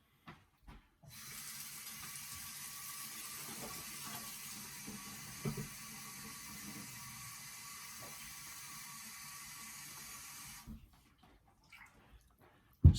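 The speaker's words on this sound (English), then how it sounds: "just fill it with water" Tap water runs steadily into a bowl of raw chicken pieces for roughly ten seconds, a continuous hiss and splash that starts and stops abruptly, with faint handling clicks before and after.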